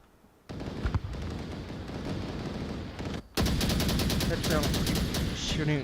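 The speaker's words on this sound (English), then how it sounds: "Shooting guns out here and there." Rapid automatic gunfire and scattered shots in the VR shooter game Onward, sounding in dense bursts that grow louder and more continuous partway through, with faint voices underneath.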